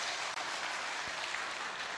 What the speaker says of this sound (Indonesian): sangat tepuk tangan buat kita semua.